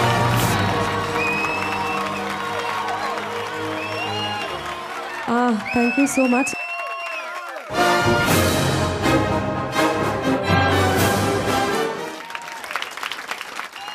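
Audience at an awards show in Dubai bursts into loud applause and cheering for a Bhojpuri singer, following music and a brief spoken thank-you, the clapping dense and sustained with whoops.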